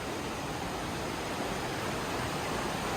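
Rushing water echoes inside a cave in Switzerland, a steady broadband roar that fills the space continuously and evenly, close and loud, with no voices.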